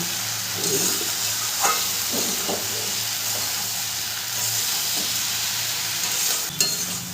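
Jackfruit curry with spices is stirred and mixed in a sizzling pan after a little water is added, giving a continuous hiss with periodic scraping strokes and one sharp knock near the end, without talk.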